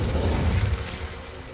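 An Incendio fire spell cast in Hogwarts Legacy roars as a dense, rumbling whoosh, loud and steady, heaviest in its first second before easing slightly.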